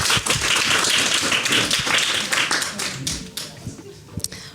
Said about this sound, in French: n'hésitez pas à applaudir un peu tous ces gens formidables qui nous ont permis de faire cette soirée.